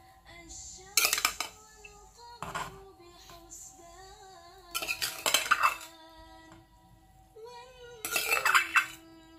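A pot of peanut sauce gets blended okra stirred in, with three or four bursts of scraping and clattering from a spoon against the pot. Quieter gaps fall between the bursts.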